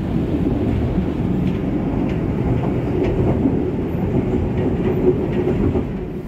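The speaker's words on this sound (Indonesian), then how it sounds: "kereta kita sudah sampai stasiun Cibatu lebih awal 1 menit dari jadwalnya" Train pulling into Cibatu station in Indonesia at night, a steady loud rumble of rolling rail cars with faint clickety-clack running throughout, no talk.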